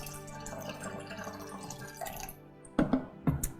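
Tap water poured over a wet tea bag, a soft trickle and splash that briefly pauses, then two short louder bursts of pouring near the end, close and fairly quiet.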